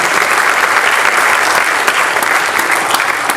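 Audience applause fills the room for the ANCA Western Region team, a dense, steady wash of many hands clapping close and loud without a break.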